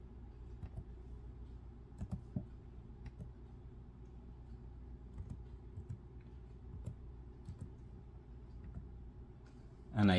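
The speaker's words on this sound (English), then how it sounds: "I come to my laptop and I type it in." Typing a code on an Acer laptop keyboard: light, irregular key clicks at close range over a low steady hum, with a louder knock at the very end.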